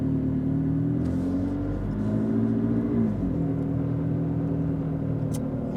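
2019 McLaren 600LT accelerating from inside the cabin, its engine note climbing smoothly then dipping as it shifts, a steady, moderately loud mechanical drone throughout.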